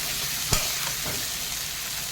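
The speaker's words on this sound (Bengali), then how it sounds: "চিংড়ি মাছটা আমার ফ্রাই হয়ে গেছে" Constant loud sizzling of shrimp frying in hot oil in a pan, close up, with one brief clatter near the start and no voices.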